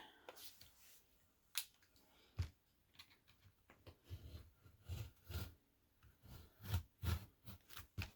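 Scissors cut around an egg shape in craft material, a series of short, crisp snips and paper rustles close by, irregular and quiet, with a few faint bumps between cuts.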